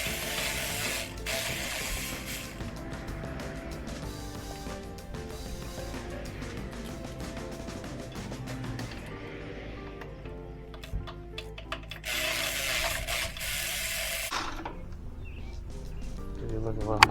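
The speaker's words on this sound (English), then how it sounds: "Got a 14 on a wall with an extension on the end of my ratchet wrench." Ratchet wrench with an extension loosening 14mm intake manifold bolts on a 1994 Ford 300 inline-six, giving repeated close clicking bursts with pauses between strokes, with someone talking over the work.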